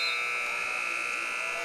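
Period-end buzzer at a high school wrestling match in the NJSIAA Region 1 finals, a loud, steady electronic drone sounding nonstop, with voices faintly audible beneath it.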